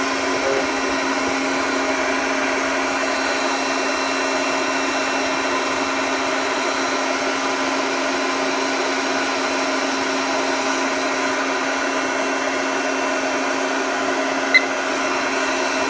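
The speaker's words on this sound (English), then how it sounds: "let's heat it up again." Magnetic induction heater kit heating a metal piece, giving a steady loud electrical hum with a constant buzzing whine and fan-like hiss that holds unchanged throughout, with no voices.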